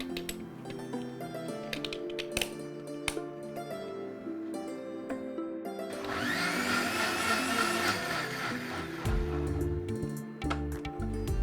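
A blender whirs through a millet drink with ice cubes, starting after scattered kitchen clicks and knocks, then running loud and close in a steady grinding roar before stopping.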